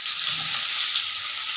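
Potatoes and ridge gourd frying dry in a pan without salt, a loud close hissing sizzle that runs steadily through a brief moment, no voices.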